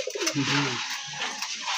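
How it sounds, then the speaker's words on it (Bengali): Pigeons kept in a loft give a short, low, throaty coo up close, followed by quieter cooing and light background noise. "কবুতরগুলো তো খুব সুন্দর, একটু দেখতে পারি?"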